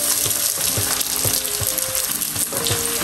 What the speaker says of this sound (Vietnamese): Bây giờ mình bỏ vô mình chiên lại chảo tiếp đi.